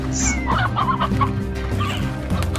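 Chickens in the video game Slime Rancher cluck and squawk in a busy, continuous chorus, close and fairly loud over a steady low game background.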